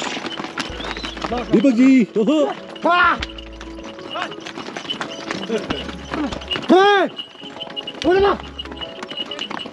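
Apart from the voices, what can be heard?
horse hooves clip-clopping on mountain trail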